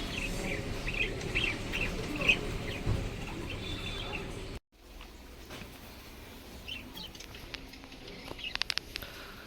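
Pet budgies in a cage chirp in quick, light bursts against a soft background patter, fairly faint, with a brief cut midway before more scattered chirps and small clicks.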